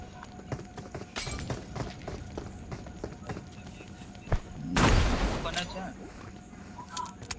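In a video game, a molotov cocktail is thrown and shatters in a sudden loud burst partway through, following quick running footsteps and scattered clicks, then fades into softer game sounds.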